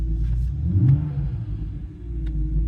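A six-cylinder BMW E46 engine idles close by with a deep, low rumble and rises briefly in a short rev before settling back to a steady hum.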